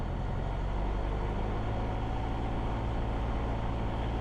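A light aircraft engine runs at 1700 RPM during a pre-flight run-up, a loud and steady drone that fills the whole stretch without any change.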